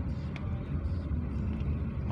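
Jeepneys and tricycles passing along a road, a steady low engine rumble of traffic filling the short moment, fairly close, with no talk over it.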